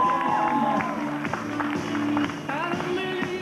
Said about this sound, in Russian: Поприветствуем наших участниц бурными аплодисментами